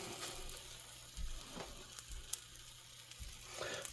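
Egg sizzling in butter in a pan for a Japanese rolled omelette, a soft steady crackle with a few brief scrapes and clicks of a utensil over it.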